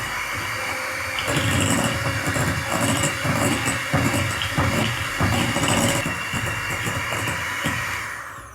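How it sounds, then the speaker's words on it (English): Electric hand mixer beating margarine and sugar until creamy in a bowl, a loud steady motor whine with rhythmic pulses from the beaters knocking the bowl, running throughout and tapering off at the end. "I'm going to use my hand mixer and beat this until creamy"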